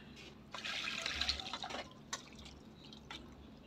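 Cooked vegetable soup poured and strained through a filter, faint splashing trickles and drips of liquid in short bursts with quiet pauses.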